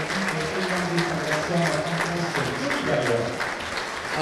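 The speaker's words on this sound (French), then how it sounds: "Johnny très applaudi" A rugby crowd at a friendly match between Biarritz Olympique and US Dax applauds a departing player, steady sustained clapping from many hands with voices and commentary running over it.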